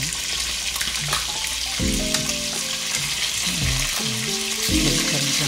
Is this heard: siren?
no